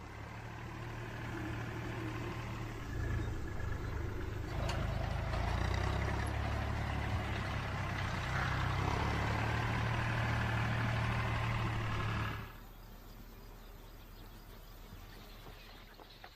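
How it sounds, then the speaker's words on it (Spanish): A tractor engine idles with a steady low rumble in a field where storks forage nearby, holding for about twelve seconds before the sound drops away to a quieter open-air background. "Si el tractor hace este cometido por ellas, ya ni siquiera les molesta el ruido del motor."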